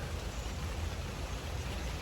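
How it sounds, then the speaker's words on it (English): Steady rain falls on a checkout day, a dense, even hiss that holds close and constant throughout with no voices. "and it's raining pretty good."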